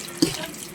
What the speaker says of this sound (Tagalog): Lagyan ko pa siya ng tubig.